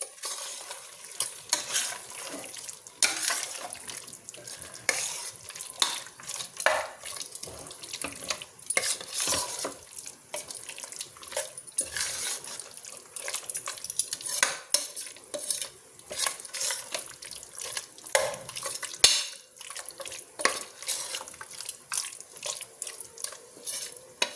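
Marinated chicken sizzles in a pan for chicken donne biryani while a spoon scrapes and stirs, irregular clatters and bursts over a steady frying hiss, close with no talk.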